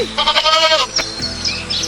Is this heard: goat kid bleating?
yes